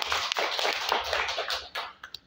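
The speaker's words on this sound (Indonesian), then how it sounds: "Tepuk tangan buat Samira Travel." Scattered hand claps from a small audience at a travel agency presentation on package costs, a short, fairly quiet burst of clapping that thins out into a few last claps.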